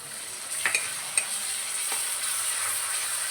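Pabda fish cooking with garlic paste and whisked sour curd in a pan, a faint steady sizzle with a few light scrapes and taps of a spoon stirring, heard close and without talk.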